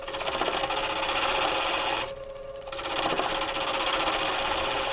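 Waste is cut away from a shallow wooden tenon with a steady, buzzing machine-like rasp that runs close and loud for about two seconds, drops briefly, then resumes at full strength to the end.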